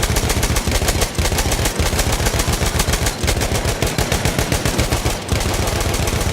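Perino Model 1908 light machine gun firing in Battlefield 1: loud, sustained automatic fire with rapid, evenly spaced shots and only brief pauses, accompanied by battle noise.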